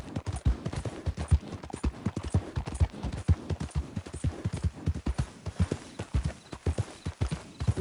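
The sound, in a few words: horse hooves clip-clopping in the video game Red Dead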